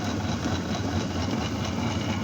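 A flexible screw auger loader, 61 mm and 10 metres long, runs on a 0.75 kW, 900 rpm electric motor through a tractor-starter reduction gear, giving a loud, steady hum and rattle close by.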